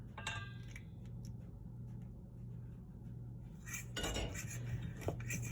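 A spoon scrapes and clinks in a bowl while graham cracker crumbs, cinnamon and melted vegan butter are mixed together: quiet, irregular metallic taps, with a busier clatter of stirring toward the end.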